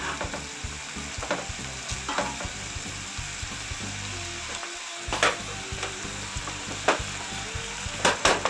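Ground beef hamburger browns in a pan for creamed beef gravy, sizzling steadily up close while a utensil breaks it into pieces, with intermittent scraping knocks and no talk.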